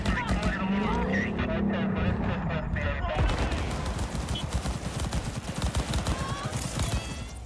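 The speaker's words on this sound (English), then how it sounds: "Officers engaged in a shootout with Maelstrom goons, a familiar sight in the volatile streets of Night City." Police shootout with gang members in the streets of Night City in Cyberpunk 2077: rapid bursts of gunfire crackle amid vehicle and engine noise, with a dense, chaotic flurry of shots intensifying in the second half.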